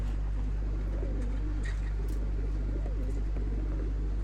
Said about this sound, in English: this one had the pigeons in.